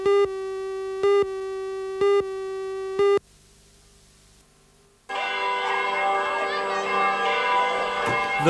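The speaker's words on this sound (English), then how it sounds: "a 15-minute ringing of the bells at Christchurch Cathedral to celebrate peace" Bells ringing at Christchurch Cathedral to celebrate peace: four evenly spaced strong tonal strikes, a short quiet gap, then a dense, loud, continuous peal of overlapping bell tones.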